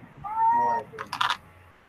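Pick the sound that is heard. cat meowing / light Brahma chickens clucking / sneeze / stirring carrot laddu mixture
cat meowing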